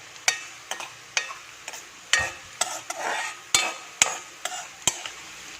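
Mustard seeds crackle in a hot wok, sharp pops arriving irregularly over a soft sizzle, close and fairly loud.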